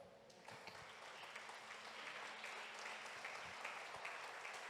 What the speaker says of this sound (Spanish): un aplauso para el pastor